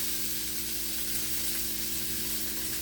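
Beef filet sears in a hot pan with a steady, close, continuous sizzle and crackle of frying, without any speech.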